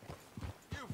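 Horse hooves clop on the ground while riding in the video game Red Dead Redemption 2, three quick soft thuds in a steady gait, fairly quiet and close.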